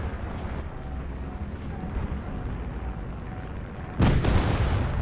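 Artillery lands in a tank battle video game, a heavy boom striking near the end over a low continuous engine rumble, with a fainter distant thud earlier.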